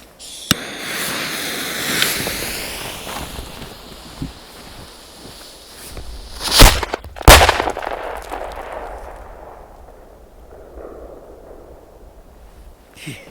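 Funke China Böller firecrackers and double salute fireworks go off outdoors: a sharp initial crack, a crackling rapid-fire string, then two loud close blasts followed by a long fading rumble and echo.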